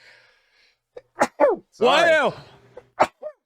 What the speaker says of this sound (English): Bless you. Sneezing.